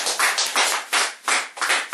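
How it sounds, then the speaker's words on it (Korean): A short burst of applause from several people, with brisk, uneven claps in overlapping bunches, close and fairly loud, lasting about two seconds. "박수 한번 치십시다"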